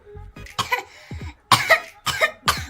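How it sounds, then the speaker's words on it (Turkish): A series of several short, close coughs, one after another with brief pauses, including a quick double cough at the end. "Öksür bakalım."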